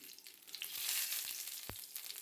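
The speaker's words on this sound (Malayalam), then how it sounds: "കുറച്ച് എണ്ണയും കടുകും കറിവേപ്പില വറ്റൻമുളക് ചെറിയ ഉള്ളി അരിഞ്ഞത് എന്നിവ ഇട്ട് കൊടുത്ത് നന്നായി ഒന്ന് ഫ്രൈ ചെയ്യണം" Mustard seeds, curry leaves, dried chili and chopped shallots fry in hot oil for a tomato curry, a soft steady sizzle with faint crackles and one sharp utensil tap, no voices.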